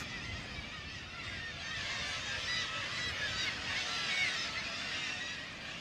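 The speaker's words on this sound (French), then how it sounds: "Alors la mouette tridactyle, c'est pas n'importe quelle mouette." A large colony of black-legged kittiwakes on the cliffs at Cap Blanc-Nez calls continuously, a dense chorus of overlapping shrill cries that stays loud and steady throughout with no talking.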